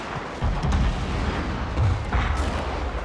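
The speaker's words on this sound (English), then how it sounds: "is that 8 or 9 units of guns all firing and I'm getting almost no return fire?" Massed musket and artillery fire in Total War: Fall of the Samurai, eight or nine gun units volleying together with cannon support, a continuous rumbling roar of overlapping shots with heavier booms surfacing through the din.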